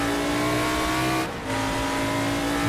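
A Formula 5000 race car engine in the Assetto Corsa racing game drones loudly and steadily at high revs, with one brief dip as the throttle lifts before the roar picks straight back up.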